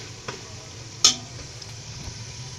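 Saag gosht meat frying in ghee, a soft sizzle with a couple of brief stirring clanks, one sharper scrape near the middle.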